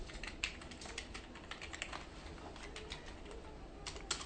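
Computer keyboard typing while code is entered, a steady run of soft, faint key clicks with a few sharper taps, and a quiet background hum with possible distant bird cooing.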